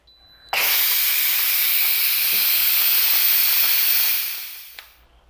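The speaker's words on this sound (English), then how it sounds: "this has cooked for about 8 minutes under pressure. I'm going to let it quick release." Steam vents from a pressure cooker on quick release, a loud, steady hiss that bursts on abruptly, holds broadband and strong for about four seconds, then tapers off as the valve is closed.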